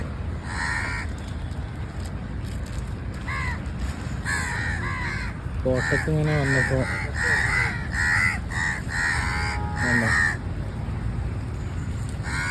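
Many crows caw repeatedly, harsh calls overlapping in bursts, while someone speaks briefly beneath a constant hiss of background noise.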